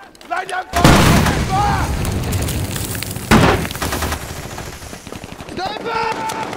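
Heavy gunfire erupts in a war film battle scene: loud, close bursts of rapid shots with booming impacts, continuing in dense volleys, with shouted voices at the edges.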